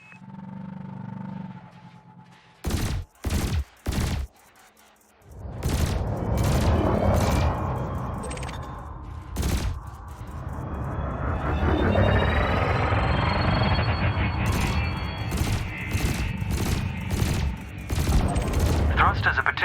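Spaceship cannons and lasers fire in Elite Dangerous: a few sharp separate shots come first, then sustained rapid bursts of gunfire over a rumbling background, loud and continuous, with occasional stronger single blasts.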